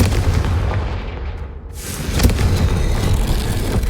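Confringo blasting curse explodes in the Hogwarts Legacy video game, a loud booming burst that cuts through a dense rumbling game soundscape partway through, with the roar continuing afterward.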